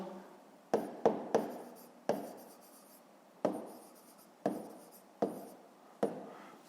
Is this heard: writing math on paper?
yes